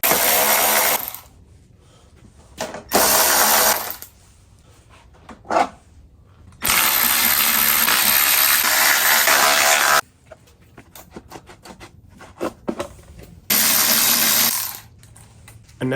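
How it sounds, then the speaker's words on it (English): Headlight assembly clamps come off a salvage Kawasaki Ninja ZX6R in sharp bursts of loud clattering and ratcheting, separated by quiet gaps with small clicks and handling noises. "Let's remove this assembly and swap those out."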